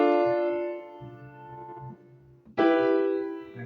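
Piano chords struck one at a time with audible silent gaps between them, each chord ringing and decaying before the next, a loud chord returning near the end; no talk.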